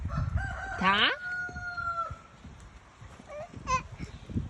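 A rooster crows once in a drawn-out call nearby, followed by fainter clucking calls, over outdoor rustling and wind noise.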